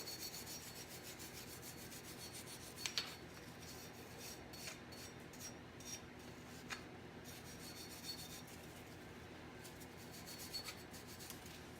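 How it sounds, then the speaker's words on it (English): A stiff wire brush scrubs over a dirty engine part in steady, close rasping strokes, a continuous scratchy rub with a few sharper scrapes and no talking. "2 wire brushes. This one's a little bit cleaner. I'll just go over it real quick."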